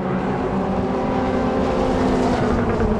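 A Toyota MR2 race car, number 77, runs on the Brands Hatch circuit during a championship race, engine loud and steady as it approaches and passes, with a constant broad roar and no speech.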